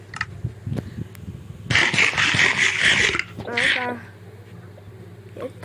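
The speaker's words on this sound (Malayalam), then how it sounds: "പട്ടി" A dog in the Minecraft video game barks and growls in short repeated bursts, with one sustained noisy stretch, mixed with other game sounds and someone shouting over it.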